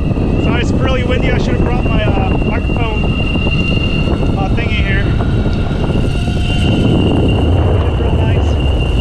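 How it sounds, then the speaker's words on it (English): Heavy wind buffets the microphone with constant low rumble while a voice speaks over it, and the motor of a Vestar CitySUV electric off-road skateboard hums along beneath. "So it's really windy."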